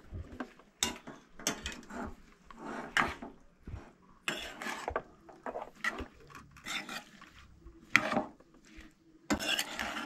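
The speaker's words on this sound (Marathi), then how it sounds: "आसलें तशें परत मिक्स करून घेवंक जाय" Goan sweet mango pickle being mixed with a pinch of asafoetida, with irregular scraping, clinking and rubbing of a spoon against a vessel, close and fairly quiet, in short bursts with brief pauses.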